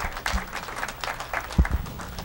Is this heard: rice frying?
no